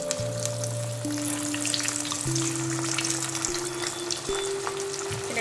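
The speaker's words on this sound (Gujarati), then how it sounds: "હવે આપણે એને તળી લેશું." Cut pieces of patra made from leftover roti fry in hot oil with a strong, continuous bubbling sizzle, close up, over soft tonal background music.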